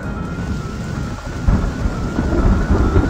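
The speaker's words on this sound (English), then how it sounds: "There might be a thunderstorm." A cartoon thunderstorm rolls on with constant heavy rain and deep rumbling thunder that swells louder midway, a dense, continuous wash of storm noise with no voices.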